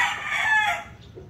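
Roundhead gamefowl stud rooster crowing once, a short, clear, fairly close call that trails off quickly, with no talk over it.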